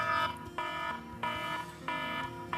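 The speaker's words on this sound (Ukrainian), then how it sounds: "такий приємний дзвіночок" A repeating electronic chime rings in short bursts, four times in a steady rhythm, clear and moderately loud, like an alarm clock going off.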